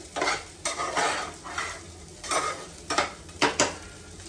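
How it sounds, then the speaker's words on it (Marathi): Sabudana khichdi with raw potato being stirred in a pan, giving a series of scraping, rustling strokes about every half second over a faint sizzle, close up with no talking. "मी साबुदाणे असे मिक्स करून घेतले त्याच्यामध्ये"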